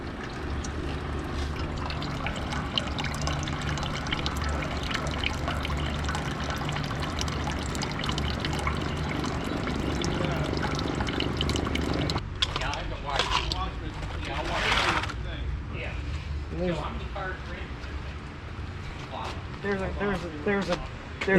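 Water drains steadily from the cooling system of a Triumph TR3 during a flush, a continuous splashing pour that stays loud throughout and turns more gurgling and broken toward the end, with some talk over it.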